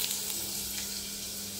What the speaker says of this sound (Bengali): এই যে ভাজা হচ্ছে রেডি।